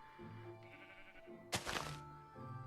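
Sheep bleating in Minecraft, a short blocky bleat over quiet game music and ambience, fairly soft and alone with no talk.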